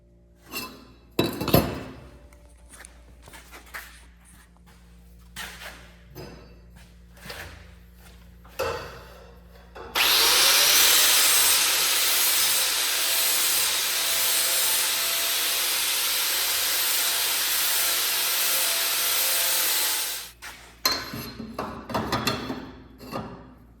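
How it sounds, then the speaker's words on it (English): A grinder smooths a wooden joint for about ten seconds of steady, loud, close abrasive whine, with scattered knocks and clinks of handling before and after. "Just need to finesse it a little bit with a grinder."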